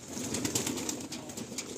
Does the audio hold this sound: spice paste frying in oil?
no